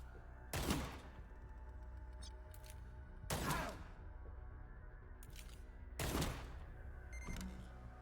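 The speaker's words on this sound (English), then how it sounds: "I think just shoot this one 3 times is fine." Gunfire in the tactical video game Cyber Knights: Flashpoint, three sharp loud shots spaced roughly every two and a half seconds, each followed by a brief clattering tail, with no talking.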